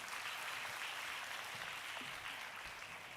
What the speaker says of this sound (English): Shall we all give her another big round of applause?